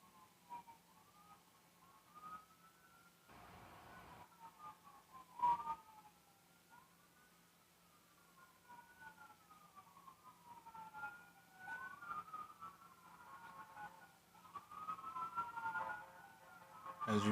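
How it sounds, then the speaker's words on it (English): Ambulance sirens pass outside a home, their wailing tones rising and falling repeatedly, faint and distant, with a few soft knocks and rustles nearby. "you can hear them ambulances come by every once in a while"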